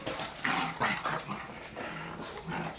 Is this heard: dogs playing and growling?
yes